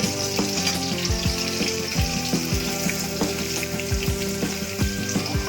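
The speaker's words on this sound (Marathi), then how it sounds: "कांदा लसूण टाकून झालेला आहे थोडा कांदा बॉईल होऊ द्या" Onion and garlic fry in a pan with a steady, close crackling sizzle throughout, broken by occasional scraping stirs of a spoon; no one speaks.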